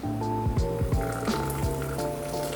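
Freshly boiled water poured steadily into a glass French press, a continuous close splash and gurgle with shifting, sliding tones as the carafe fills, loud and unbroken from start to finish.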